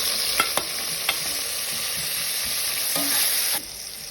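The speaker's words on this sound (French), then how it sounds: "je vais dorer un petit peu des oignons pour faire de sauce" Onions and tomatoes fry in a pan with a steady, close sizzle, while a utensil scrapes and stirs through them in a few sharp knocks, with no one talking.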